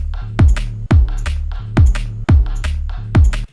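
A chopped drum and bass loop hits hard and alone, with clipped, stuttering bass stabs and dropping kick thumps in a tight, syncopated pattern, each phrase cut short before the next.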